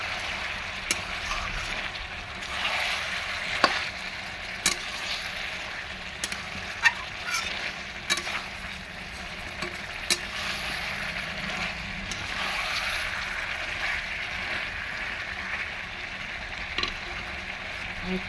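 Meat and potatoes sizzle in a village kitchen pan as a spatula stirs them, a steady frying hiss with scattered scraping clicks throughout, close by, and no one talks.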